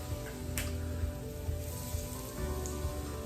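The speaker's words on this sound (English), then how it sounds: "you can hear it sizzling" Steady, crackling sizzle of Yorkshire pudding batter hitting hot oil in a tin, continuous and close with fine popping throughout.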